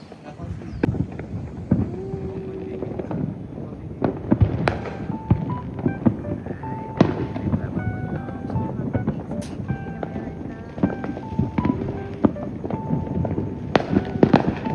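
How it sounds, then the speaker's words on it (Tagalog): Fireworks set off by children on the Fourth of July in the United States: scattered sharp pops and bangs, some near and some farther off, crackle through outdoor wind noise while people talk throughout. "Here, yung mga bata nagpapaputok sila. Report of July. Ay, diba? The fireworks over there."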